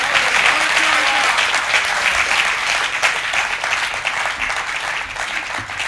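Loud audience applause after a Hindi poetry recital, dense continuous clapping from a crowd that slowly tapers off.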